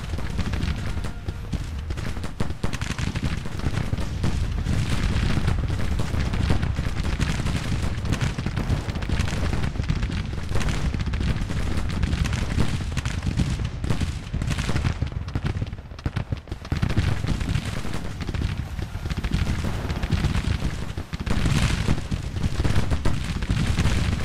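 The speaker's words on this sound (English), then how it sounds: "The artillery." Civil War artillery and musket volleys in Grand Tactician: The Civil War battle at Front Royal Bridge, a relentless dense barrage of booms and crackling gunfire, loud and continuous throughout.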